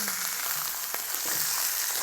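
Osso bucco veal shanks browning in a hot pan, a steady close sizzle and crackle of frying meat with no talking over it.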